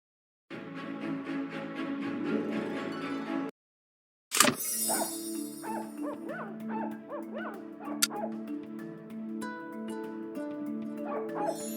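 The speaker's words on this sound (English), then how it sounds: "The barking is coming from behind this door." Pomeranian barking and whimpering from behind a closed door in a puzzle video game, a steady run of small-dog yips and harmonic whines after a brief pause and a sharp thump.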